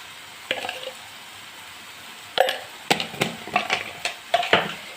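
A spoon stirs salt and turmeric into an egg and chilli mixture frying in oil in a pan, giving several close scraping strokes in a loose rhythm after a brief quiet start.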